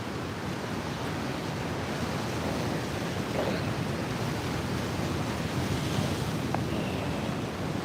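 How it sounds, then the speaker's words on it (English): Ocean waves washing steadily near the shore in Japan, a constant broad surf roar with light wind, fairly loud and unbroken throughout. "You guys can just watch the ocean."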